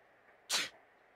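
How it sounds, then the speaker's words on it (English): A single short, breathy sneeze from a character in a Lego mystery role-playing video game, close and crisp over a faint steady background hum. "It's a sneeze."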